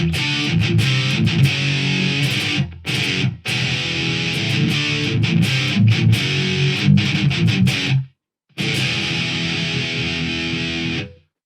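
Heavily distorted rhythm electric guitar, with tight chugging riffs and abrupt stops. The tone is loud and dense, played alone with no voices.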